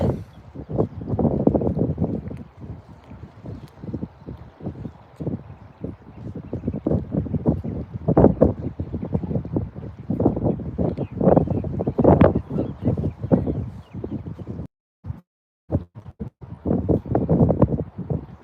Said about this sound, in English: Wind actually settled down a little bit right now. It was shaking the pier. It was so windy.